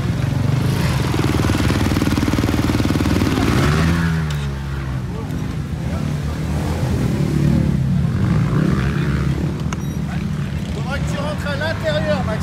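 A vintage motorcycle engine idles and revs close by at a race, its steady rumble rising and falling, with people talking over it.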